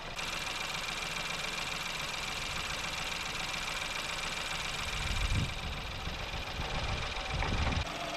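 A Ford Fiesta engine idles steadily during a cooling-system flush, a constant broadband drone with a low rumble that swells slightly twice near the end; no one speaks.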